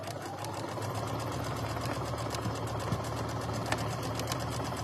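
Sewing machine stitching a quilt top at a slowed pace, giving a steady, even mechanical whirr with a faint rhythmic pulse, close and continuous.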